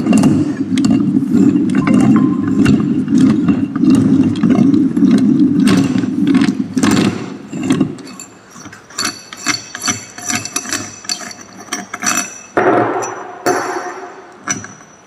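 A lathe headstock is opened and its metal parts and gears handled. A loud mechanical grinding rumble runs for several seconds, then gives way to irregular close clanks, taps and metallic knocks of parts being moved.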